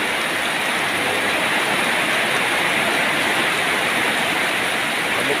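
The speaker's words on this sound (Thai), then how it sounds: "ยามค่ำๆนะครับฝนก็ตกเลย" Evening rain pours down steadily in a dense, even hiss, with wind blowing hard, loud and unbroken for the whole stretch with no voices.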